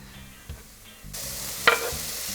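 Pieces of chicken go into a pan of onion. A quiet spatter rises into steady sizzling, with a soft scrape of stirring and one brief clink in the middle.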